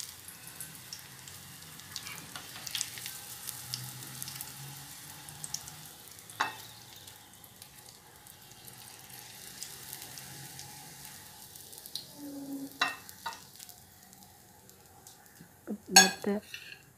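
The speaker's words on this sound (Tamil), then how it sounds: "நாங்கள் இப்போ நல்லா பொரிஞ்சிட்டு நாங்கள் வெளியே எடுப்போம்" Fish cutlets frying in oil in a pan, a soft steady sizzle running throughout, with occasional metal clinks of utensils against the pan and a louder clatter near the end.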